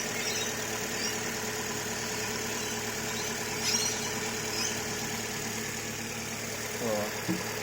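A Chevrolet Cruze engine idles steadily during a coolant bleed, a continuous close mechanical hum with faint rattling vibration and a couple of small knocks near the end.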